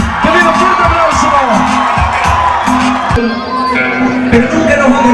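A crowd at a live hip hop concert in Chile cheers, whoops and claps, loud and close, while a voice speaks over the noise throughout.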